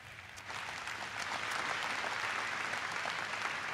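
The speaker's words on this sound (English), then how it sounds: "You can give that a round of applause if you like." Audience applause at a lifestyle-medicine talk, starting lightly and swelling into sustained, dense clapping from a moderately sized crowd that holds steady to the end.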